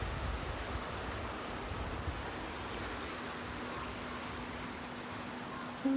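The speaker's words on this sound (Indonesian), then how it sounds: "Hujan indah, terus masih berani." Steady rain falling outdoors, a soft even hiss of drops on surfaces continuing throughout with a faint low hum underneath.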